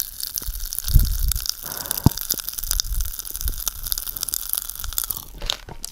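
Pop Rocks candy fizzing inside a mouth gives a steady close-up crackle with soft wet bubbling and a few sharper pops, no voices over it.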